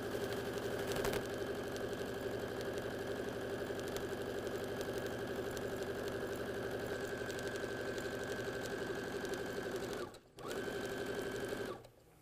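A sewing machine chain-pieces fabric for a crazy quilt block, running in a steady, continuous whir that pauses briefly near the end, close and alone with no talk.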